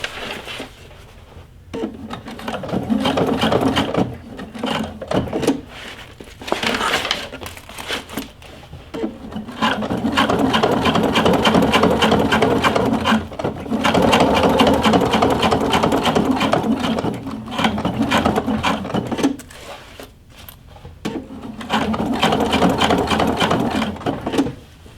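A sewing machine stitches a patch onto a leather vest in several rapid whirring bursts, separated by short pauses while the vest is turned, loud and close.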